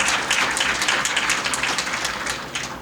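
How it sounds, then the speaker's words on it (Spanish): Audience applause after a conversation about Borges, a dense wash of clapping that holds steady and fades slightly toward the end. "Le damos un aplauso por la presentación extraordinaria a Gonzalo."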